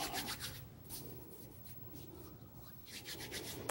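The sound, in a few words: scraping dough off a floured surface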